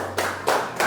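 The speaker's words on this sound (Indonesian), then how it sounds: "Tepuk tangan buat kelompok 1" Classmates clap for group 1 in an elementary school classroom, three distinct bursts of clapping with short pauses between them, close and fairly loud.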